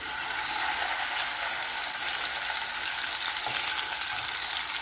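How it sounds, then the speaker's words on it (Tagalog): Pork ribs fry in hot oil, a dense, steady crackling sizzle that fills the clip evenly from start to finish at close range, with no voices. "So, dito ay ipiprito natin itong ating pork ribs."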